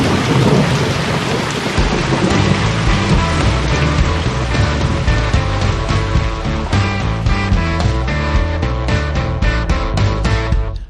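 A heavy thunderstorm with a loud, constant hiss of rain pouring onto surfaces and a deep rolling rumble of thunder underneath, steady and close with no voices.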